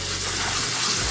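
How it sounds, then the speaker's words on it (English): Cold tap water gushing steadily over sago being rinsed, a loud, close, continuous splashing rush heard alone. "Now I'm going to rinse it off with some cold water"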